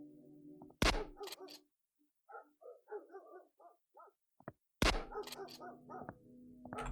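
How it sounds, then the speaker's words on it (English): A weak-sounding shotgun in a video game fires two sharp, short blasts about four seconds apart, with small chirping game sounds scattered in the quieter stretch between them. "That is the weakest sounding shotgun I've ever"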